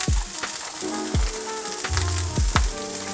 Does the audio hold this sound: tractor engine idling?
no